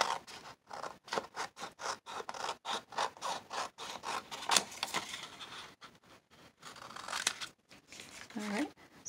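Scissors cutting paper for a vintage travelers notebook, a run of short crisp snips and scratchy rasps in an uneven rhythm, close and fairly quiet, with a brief rustle near the end.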